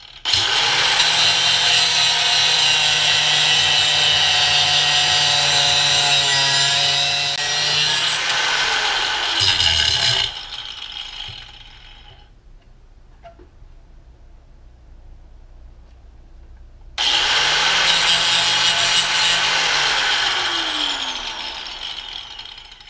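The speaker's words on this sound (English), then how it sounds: "Use a cutting tool or a grinder to remove the nut." Grinder cutting a welded nut off a tip-over bar on a 2018-2025 Honda Goldwing, a loud steady high whine for about ten seconds, a quiet pause, then another sustained cutting burst.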